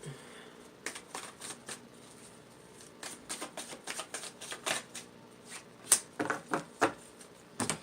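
Tarot cards are shuffled by hand in a quick series of crisp riffling bursts and soft slaps, close and fairly clear, with short pauses between the flurries and no talking.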